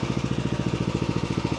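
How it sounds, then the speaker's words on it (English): A jump-started lawn mower engine runs alone in a steady, fast, even chugging idle, close and moderately loud with no talk. "After seeking where the power is located, we jumped the lawnmower."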